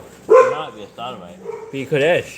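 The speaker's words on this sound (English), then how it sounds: "Sorry for the dogs, guys." Pit bulls bark and yip nearby, their sharp, uneven bursts mixed with someone speaking at the same time.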